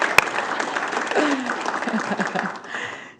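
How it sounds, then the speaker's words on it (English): Applause at a city council meeting, with a room of attendees clapping steadily for about three seconds before it tapers off, a voice briefly audible partway through. "Yes, you want to do an applause before?"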